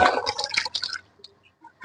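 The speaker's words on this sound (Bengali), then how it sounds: "তাহলে চলো মাছগুলোকে এবার আমি পরিষ্কার করে ধুয়ে নিই।" Fish being washed in water, with close splashing and swishing that fades into a few faint drips.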